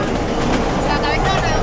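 Steady rumble and rattle of Europe's highest narrow-gauge mountain train running on its rails in the Pyrenees, a continuous close rolling clatter filling the whole moment with no pauses.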